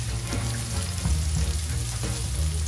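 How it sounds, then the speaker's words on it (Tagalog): Garlic sautés in hot oil in a pan for laing, a steady close sizzle and crackle with a few brief stirring clatters. "Igisa na po natin ang bawang"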